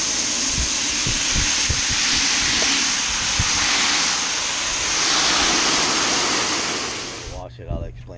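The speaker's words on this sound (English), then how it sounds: "And then let's fill up the bucket." Water rushing steadily into a bucket for washing a car in a driveway, a loud continuous gushing that runs unbroken for several seconds before cutting off abruptly near the end.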